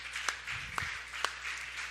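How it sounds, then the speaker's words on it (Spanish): Church congregation applauding, a sustained wash of many hands clapping at a moderate distance, with a few sharper individual claps standing out and low murmuring beneath. "Un fuerte aplauso del Señor por la gente trabajadora"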